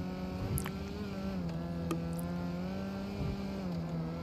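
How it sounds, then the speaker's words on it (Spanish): A steady, droning car engine in GTA V hums at an even pitch throughout, with faint whooshes and clicks layered over the constant rumble. "Qué cool suena este carro, Ale."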